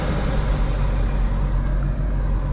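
A 2024 Audi RS3 with a 2.5 liter inline five on the move, a dense low engine rumble mixed with road and tyre noise, steady and loud from inside the car, no voices.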